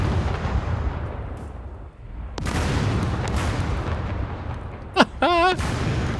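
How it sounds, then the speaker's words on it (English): Gunfire in the survival game SCUM, distant shots and booms rumbling through a noisy outdoor scene, with one sharp nearby crack and a brief whining tone near the end. "Oh my god, what are they shooting down there?"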